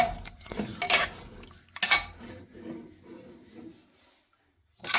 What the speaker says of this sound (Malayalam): ഇത് ഇളക്കി ചേർത്തിട്ട് ഇത് നമുക്കൊന്ന് വേവിച്ചെടുക്കാം